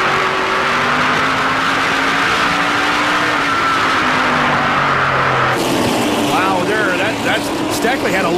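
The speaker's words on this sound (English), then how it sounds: "as we ride on board with Scott Steckley." An onboard view from a NASCAR Camping World Truck Series race truck at the 2009 Z-Line Designs 250, its engine roaring loud and steady with shifting pitch as it runs the track, while a commentator talks over it.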